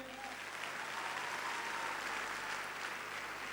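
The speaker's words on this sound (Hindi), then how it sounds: "जोरदार तालियां चाहूँगा" An audience applauds steadily, a dense wash of clapping that stays even in loudness from start to finish.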